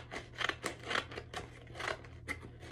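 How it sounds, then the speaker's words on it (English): Scissors snip through paper to trim a corner off a plus-size sewing pattern, a series of crisp close cuts in an irregular rhythm with a faint steady hum underneath. "I'm gonna cut that corner right off."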